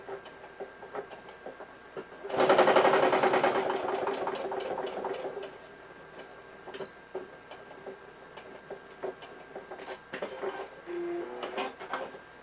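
A sewing machine backstitching while a purse is made, running in one loud fast burst of needle chatter for a few seconds, followed by quieter clicks and handling of the fabric.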